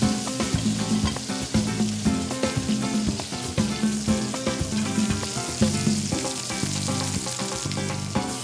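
A black margate fillet with pineapple slices frying in a pan, a loud, dense crackling sizzle with rapid popping that runs steadily throughout, close and uninterrupted.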